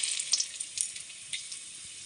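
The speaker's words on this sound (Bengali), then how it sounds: "এখন আমি ফোড়নে দেবো তেজপাতা আর গোটা গরম মশলা।" Bay leaves and whole garam masala tempering in hot oil in a cooking pan for a mutton curry produce a close, steady sizzle with small popping bursts, heard alone without talk.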